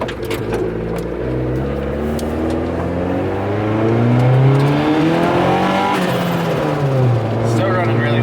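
A turbocharged Honda Civic drives off, its engine droning and revving unevenly as it runs rough, with shifting pitch and a rising surge midway; a voice can be heard over the engine.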